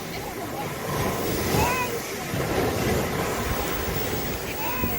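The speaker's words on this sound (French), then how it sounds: "Écouter les vagues et le son de l'océan peut être très apaisant" Ocean waves breaking on the seashore make a steady, rushing wash of surf that swells and eases gently over several seconds, with faint high chirps above the noise.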